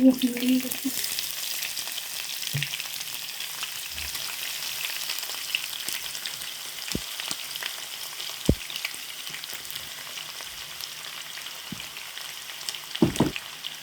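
Sliced onions fry with bay leaf in a pan for Bengali duck bhuna curry, a continuous moderate sizzle with a few sharp utensil clicks scattered throughout.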